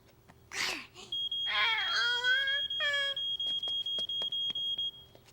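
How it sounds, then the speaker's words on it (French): A fire alarm in a children's cartoon beeps in a rapid, regular series of loud, high-pitched pulses, while a child's crying and babbling voice sounds over its start. "nous allons réécouter le bruit que fait l'alarme pour pouvoir le reconnaître"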